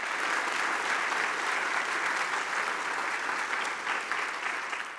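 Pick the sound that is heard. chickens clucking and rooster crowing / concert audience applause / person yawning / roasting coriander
concert audience applause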